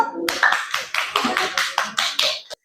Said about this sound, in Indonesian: Tepuk tangan untuk mereka dulu.